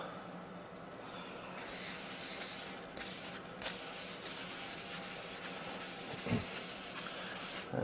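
A cloth rubs walnut oil onto a redheart wood bandsaw box with a steady, close, soft swishing friction in repeated strokes, and no one speaks.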